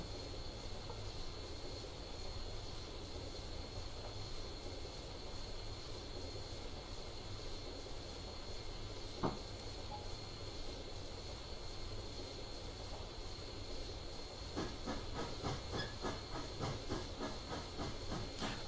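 Steam locomotive from Train Simulator 2016 runs steadily with a constant hissing, rumbling drone, a brief sharp click near the middle and a rhythmic clatter building toward the end, with no voices.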